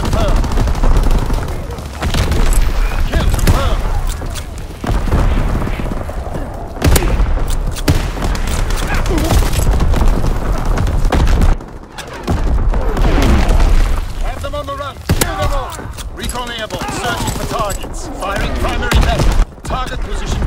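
Artillery battery firing in the World War II shooter game Call of Duty: WWII, a loud, dense barrage of booming blasts and rapid gunfire that rolls on almost continuously, with brief radio-style voice callouts between the explosions.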